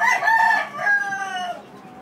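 Nearby rooster kept as breeding stock lets out one loud crow, with an abrupt first segment and a long drawn-out falling note, clear and alone.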